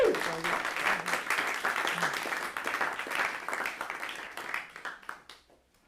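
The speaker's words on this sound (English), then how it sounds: "give another round of applause for Chris" An audience applauds for Chris at a home-technology discussion and Q&A session, a dense burst of clapping with a cheer that stays steady and then tapers off toward silence.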